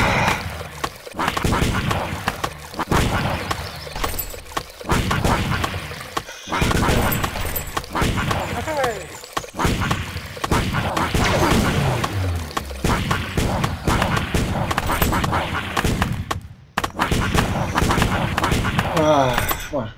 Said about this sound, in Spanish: Tiros por todos lados, como se escucha.